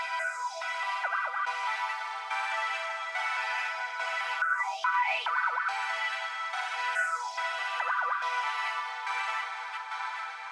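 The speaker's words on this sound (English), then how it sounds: "On this sound the effects will be next Shimmer," Synth preset processed with shimmer, portal, Liberator, EQ and limiter effects plays sparse chiming tones with swooping, echoing sweeps over a steady airy wash, alone and moderately quiet.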